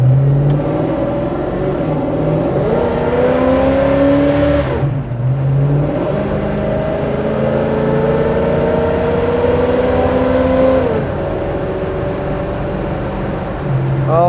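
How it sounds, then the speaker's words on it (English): A 1970 Chevrolet Chevelle SS-style V8 engine revs and accelerates hard, its pitch climbing in two long pulls with a brief drop between, loud and close throughout. "The engine has good acceleration, has good response in the pedal."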